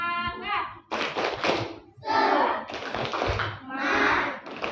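A classroom of children performing the 'tepuk semangat' rhythmic clapping chant, bursts of patterned claps mixed with chanted voices, loud and close.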